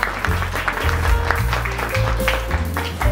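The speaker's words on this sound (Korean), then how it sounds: "박수 부탁드립니다" An audience at a children's play forum applauds a guest speaker with a continuous patter of clapping, over a low steady hum and background music tones.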